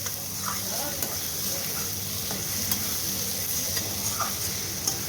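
Fish with potato and eggplant fries in oil in a pan, a steady close sizzle and crackle with occasional light stirring taps, continuous and moderately loud.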